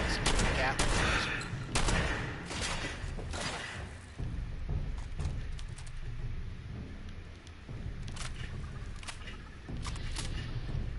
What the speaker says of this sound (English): You've got like some sort of Gatling laser.